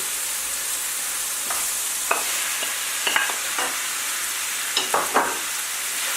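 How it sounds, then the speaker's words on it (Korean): Fish cake is stir-fried in a pan for spicy eomuk bokkeum, a steady sizzle broken by several sharp scrapes and clacks of a utensil stirring. "어묵도 볶아주시고요"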